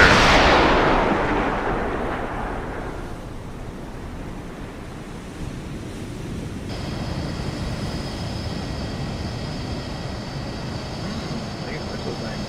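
A submarine torpedo launches from its tube in a video game, a heavy rushing whoosh that swells at the start and fades into a low, steady wash, with faint talk and a thin tonal hum joining partway through.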